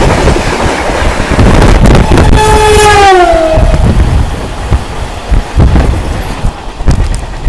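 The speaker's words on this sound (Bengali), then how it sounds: "সামনে একটা পুরনো আইসেফ লোকাল ট্রেন আসছে বর্ধমান যাবে" A fast local train on the Barddhaman to Howrah line roars past at speed, loud and close with wind buffeting, a long descending horn, and rhythmic clatter of wheels over rail joints.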